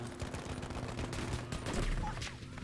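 Gunfire from a pistol in the Battlefield 5 video game bursts out in rapid shots, dense and loud, over a steady hum of battle noise.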